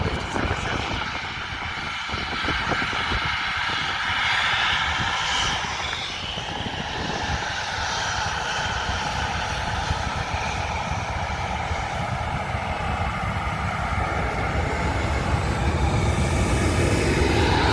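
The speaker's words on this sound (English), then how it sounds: "Easyjet A320 Neo is on its roll" An EasyJet Airbus A320neo jet on its takeoff roll at an airport gives a steady, loud, broadband engine roar that holds and builds slightly, heard from a distance with no talking.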